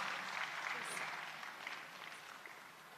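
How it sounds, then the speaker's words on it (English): Audience applause at an SRM IST alumni day ceremony as Mr. Srini Ramaswamy is honoured, a steady wash of clapping from a large crowd held at even strength across the whole stretch, fading slightly toward the end. "Please, sir, can we give a round of applause for Mr."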